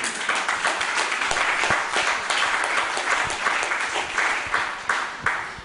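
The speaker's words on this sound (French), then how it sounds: "Applaudissez un peu Jésus-Christ." A church congregation applauds in praise of Jesus Christ during a worship service, a dense, steady wash of many hands clapping close by that carries on without a break and tapers slightly at the end.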